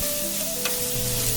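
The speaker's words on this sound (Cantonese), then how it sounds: "接住個中火嚟炒啲五花肉，將五花肉入邊嘅油脂呢炒一炒佢出嚟" Pork belly sizzles steadily while being stir-fried in a wok over medium heat, a continuous close frying hiss with a brief scrape of stirring partway through and no voices.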